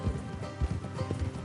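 Horse hooves clip-clop at a steady trot in Red Dead Redemption 2. The hoofbeats are close and rhythmic over soft ground, with no talking over them.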